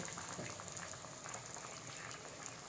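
Water with potatoes just added starts to boil in a pot on a gas stove, a steady close bubbling hiss that continues throughout without any voice over it.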